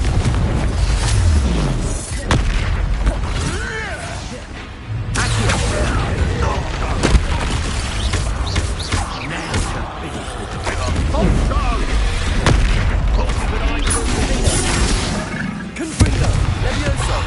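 Confringo spell blasts in the Hogwarts Legacy video game, repeated booming fiery explosions over a dense battle din, loud and close.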